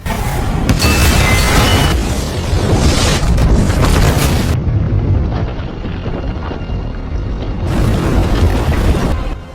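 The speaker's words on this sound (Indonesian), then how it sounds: "Di rumah sakit, tekanan gas menyebabkan ledakan dahsyat." A massive, sustained gas-pressure explosion at a hospital in a film roars with heavy low rumble and crackling debris, loud and close, rolling on for several seconds without any voices.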